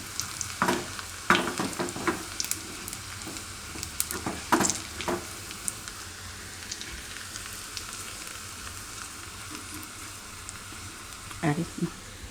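Kashmiri red chili tempering in hot oil for a Gujarati-Sindhi sai bhaji vaghar, a soft steady sizzle with occasional sharper crackles and utensil taps, quiet and close.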